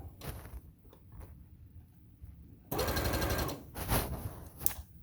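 A sewing machine stitches a seam on pajama shorts: a low, faint mechanical hum early on, then a loud, steady run of rapid stitching midway through that eases off briefly and picks up again near the end.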